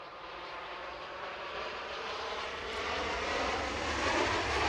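Ryanair jet airliner departing Edinburgh Airport, bound for Copenhagen: a steady broadband engine roar that builds gradually louder over several seconds, continuous with no voices.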